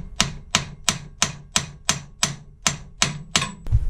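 Hammer blows striking a boat's bow thruster during repair ring out one after another in a steady, evenly spaced rhythm, about eleven sharp, close metallic knocks with no talking.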